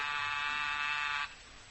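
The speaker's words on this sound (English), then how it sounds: "Jack, that's the door buzzer." A door buzzer sound effect in a radio comedy gives one steady, harsh electric buzz lasting just over a second, then cuts off to quiet room tone.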